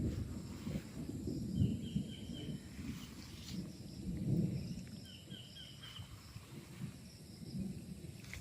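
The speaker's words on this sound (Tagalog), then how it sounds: "kumukulog, medyo umuulan po ngayon mga kapraps" Low rumbles of thunder roll in a few times over light rain on a farm, faint and distant, with insects and an occasional bird chirping in the background.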